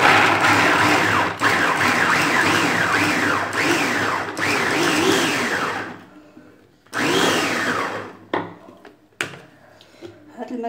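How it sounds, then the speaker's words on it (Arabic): An electric food grinder chops onion, its motor whirring loudly in repeated rising-and-falling bursts for several seconds, then stopping, followed by a shorter burst and a few brief pulses with clatter. "غناخدو الطحانة ديالنا غنديرو فيها كمية ديال البصلة"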